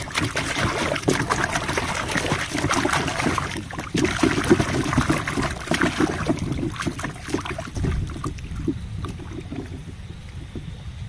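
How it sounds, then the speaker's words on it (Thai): Freshly dug yams being washed by hand in a basin of water, steady sloshing, splashing and trickling up close that thins out toward the end. "ต้องล้างสักสองสามน้ำนะครับ"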